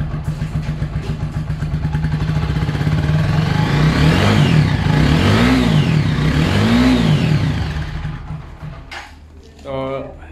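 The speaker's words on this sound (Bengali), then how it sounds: "তো এই হচ্ছে বাইকের সাউন্ড," A TVS Apache 4V ABS motorcycle engine idles close by, then is revved three times, each rev climbing and falling away. It settles back to idle and fades, and a short, separate sound closes the moment.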